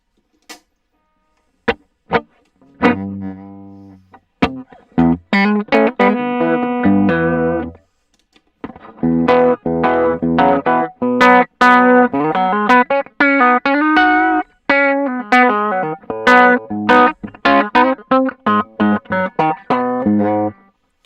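An electric guitar plays a melodic run with sharp plucked attacks and sustained notes, close and fairly loud, with a dry sound and no roomy echo.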